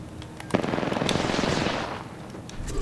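Rifle gunfire from the video game Apex Legends plays as a rapid, steady stream of loud automatic shots, with a sharper crack near the start and no voices.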